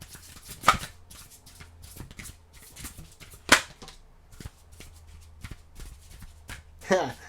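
A deck of tarot cards is shuffled in several quick, crisp riffling bursts with softer handling rustles between them, close, with a voice faintly present.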